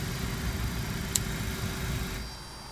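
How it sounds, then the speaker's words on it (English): Hydraulic pumps running in a CRJ200 airliner flight simulator sound pack give a steady, dense mechanical whir with one sharp tick midway, then the level drops slightly near the end. "all these hydraulic pumps are simulated in our Soundpack as well. For example, if you turn on the 3A pumps,"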